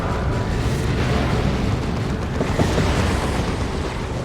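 Venom Cannon Carnifex fire landing as a creeping barrage in Warhammer 40,000: Dawn of War 2, a loud, continuous roar of overlapping explosions and rumbling blasts with a few sharper impacts mixed in.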